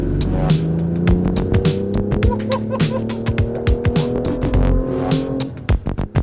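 A BMW M2 sports car accelerates hard with a steady engine drone rising in pitch, overlaid by many sharp, loud clicks and ticks from the road and cabin, no talk.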